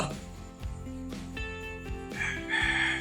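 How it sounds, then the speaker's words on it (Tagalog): A rooster crows loudly nearby at night in the Philippines, its long call rising and stretching over a few seconds, with faint background sounds. "Ayun, may manok."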